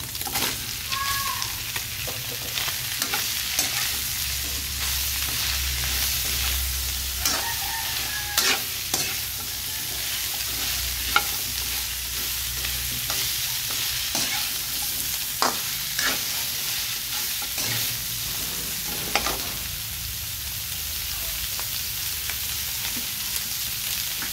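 Beef and bitter gourd stir-frying in a hot pan, a steady loud sizzle running throughout with repeated scraping and clinking of a utensil stirring, alone with no talk.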